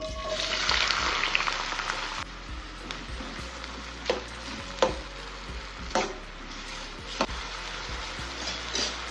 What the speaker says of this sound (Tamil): இதில் குடமிளகாவை போட்டு ஒரு ரெண்டு நிமிஷத்துக்கு அப்படியே சிம்மில் வச்சு வறுத்துடலாம்